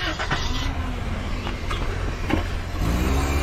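A car driving away on a road; a steady, fairly loud engine rumble with some passing whooshes, rising slightly at the end, with no clear talk.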